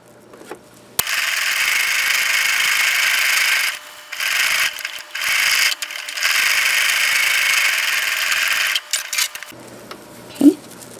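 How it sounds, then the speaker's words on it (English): A sewing machine stitches around a fabric oval for a pot pincher, a steady mechanical whir running in long bursts with brief pauses as the fabric is turned, then stopping near the end. "we're just going to sew all the way around it"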